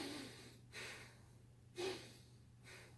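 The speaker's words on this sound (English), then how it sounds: "I am breathing through one nostril." Breathing through one nostril, three soft close airy inhales and exhales spaced about a second apart, faint and alone in a quiet room.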